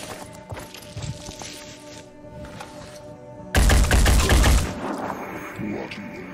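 Heavy gunfire aimed at an Arthron in Phoenix Point: a loud burst of rapid shots erupts after quieter footsteps and faint clicks, then the volley fades into a lingering rumble.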